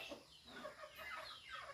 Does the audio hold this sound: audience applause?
no